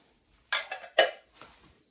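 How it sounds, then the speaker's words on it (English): A galvanized metal tray and a soap dish are handled, giving two sharp metallic clanks followed by a lighter rattle in a quiet room. "This is a galvanized tray. And a soap dish."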